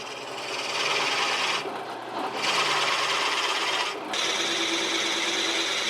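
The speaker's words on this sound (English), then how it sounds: "This is a 5/8 drill bit." A 5/8 drill bit bores into walnut end grain with a loud, close, continuous grinding whir, briefly easing off twice before biting back in.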